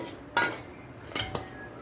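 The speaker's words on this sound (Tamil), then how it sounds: "ஒரு பாத்திரம் எடுத்து நம்ம எடுத்த இன்க்ரீடியன்ட்ஸ் எல்லாத்தையுமே ஆட் பண்ணிக்கோங்க." Gram flour dosa ingredients tipped into a metal kitchen vessel, giving two separate clanks and clinks of utensil against pot, with a quiet pause between them and no talking.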